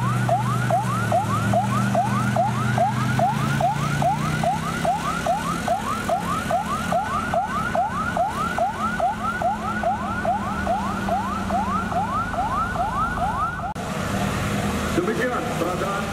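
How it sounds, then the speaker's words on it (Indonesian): An ambulance siren wails in a rapid, repeating up-down sweep during a military disaster response demonstration, loud and continuous over vehicle rumble, cutting off near the end while the engine noise continues. "ambulan menuju rumah sakit"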